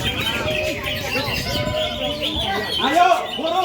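Green leafbird (cucak ijo) singing outdoors in strong wind, a busy run of rapid chirps, trills and swooping whistles that grows louder near the end, with other birds calling in the background.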